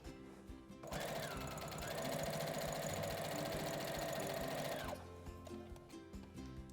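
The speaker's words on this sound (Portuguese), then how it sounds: "Vou na máquina, costura reta de novo." A sewing machine runs a straight stitch in one continuous, even whirring burst of about four seconds, with quieter mechanical ticking before and after.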